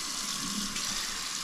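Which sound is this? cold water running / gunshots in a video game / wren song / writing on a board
cold water running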